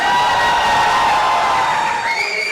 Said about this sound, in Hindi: एक बार जोरदार तालियां दीपिका के लिए